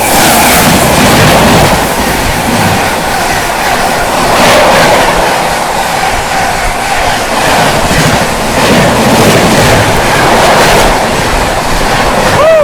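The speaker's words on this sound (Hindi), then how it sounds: "विक्रमशिला पर अपने से क्रॉस होती 12566 न्यू दिल्ली दरभंगा बिहार संपर्क क्रांति" Loud, continuous rumble and rattle of the 12566 New Delhi–Darbhanga Bihar Sampark Kranti express passing close by at speed, with rhythmic wheel clatter, rushing wind and occasional squeals throughout.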